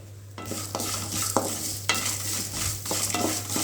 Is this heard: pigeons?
no